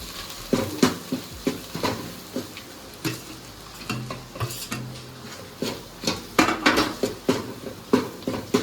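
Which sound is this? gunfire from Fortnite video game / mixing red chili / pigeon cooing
mixing red chili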